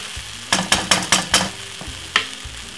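Meatballs frying in a pan with ketchup are stirred, giving a series of close, sharp scraping clacks in quick succession over a steady sizzle, then a later single stroke.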